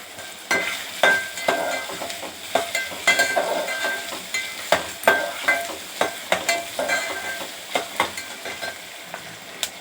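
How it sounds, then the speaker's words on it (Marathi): Chopped onions sautéing in a pan while being stirred, with a steady close sizzle broken by repeated scraping stir strokes in an uneven rhythm, no talk. "कांदा चांगला परतत राहायचं।"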